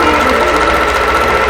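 A sewing machine quilting a pumpkin patch appliqué panel hums and whirs in a loud, steady continuous run close by, with no voices.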